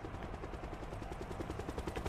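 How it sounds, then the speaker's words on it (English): A helicopter in Call of Duty Black Ops 4, with rapid, steady rotor thumping over a dense engine rumble, fairly quiet and continuous with no talk. "ooh, helicopter."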